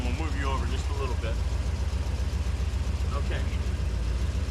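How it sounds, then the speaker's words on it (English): A 1981 Corvette engine idles with a steady low rumble and a leaking exhaust, while someone talks over it close to the microphone. "Definitely have an exhaust leak. I can hear that."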